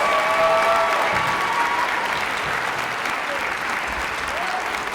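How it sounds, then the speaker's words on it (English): An audience at a Strut For The Cure fundraiser event applauds loudly and continuously, dense clapping with a few cheers, fading slightly toward the end. "Please give them a huge round of applause."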